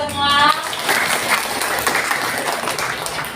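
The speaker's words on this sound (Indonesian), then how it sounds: "tepuk tangan untuk kita semua" Applause from a classroom of children fills the room, steady dense clapping with some overlapping voices, loud and close throughout.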